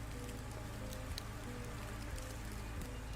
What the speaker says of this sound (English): Oh, and it's raining again